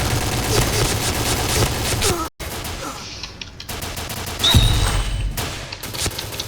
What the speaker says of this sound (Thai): เสียงก็จะเหมือนปืน VZ นะ VZ52 นะ ปืนโบราณนะ